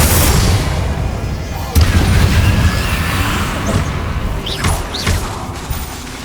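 Confringo fire spells blast in Hogwarts Legacy on PS5 during a fight with inferi. Loud booms and crashing impacts come in a dense, continuous barrage, with a sharp hit near the two-second mark.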